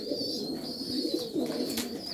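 Pigeons in a dovecote coo and scuffle while squabs are being fed, a steady low murmuring of several birds close by with soft wing flutters and thin squeaks.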